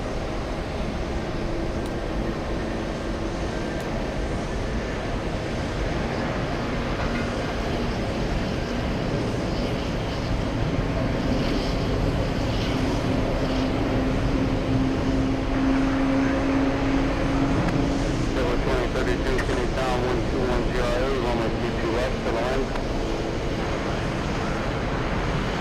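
An Air France airliner at JFK airport gives a steady, loud, continuous jet roar that holds level throughout with no voices over it.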